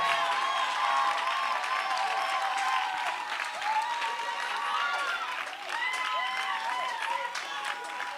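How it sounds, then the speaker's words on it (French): An audience at a church gathering applauds loudly and continuously, a dense wash of clapping with scattered whoops and voices over it. "Acclame bien fort."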